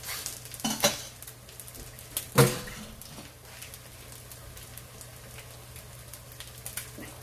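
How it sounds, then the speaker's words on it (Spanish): An egg fries in a pan while making chilaquiles rojos, a steady faint sizzle running throughout with a few louder scraping and clattering knocks of a utensil against the pan. "Recuerden que acá tenemos friendo nuestro huevo también."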